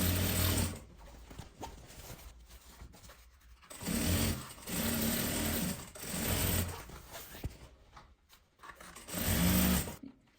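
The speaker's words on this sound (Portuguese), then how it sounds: "Que agora eu vou rebater essa costura." A sewing machine topstitches a seam on a travel bag at a longer stitch length, running in several bursts of steady motor whir with short pauses between them, close and fairly loud.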